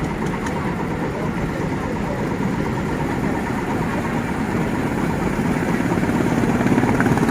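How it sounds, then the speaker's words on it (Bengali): Boat engines chug steadily on the river at night in Hoi An, a continuous mid-pitched motor drone with a faint knocking idle, fairly close and building slightly toward the end, with no talk over it. "প্রচুর নৌকা নদীতে চলছে।"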